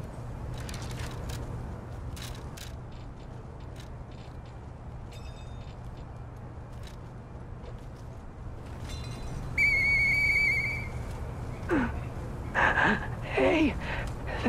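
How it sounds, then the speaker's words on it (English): A character's whistle in the video game Lies of P, short clear whistled tones rising and bending near the end over a low ambient hum, with brief breathy sounds earlier. "I know that whistle."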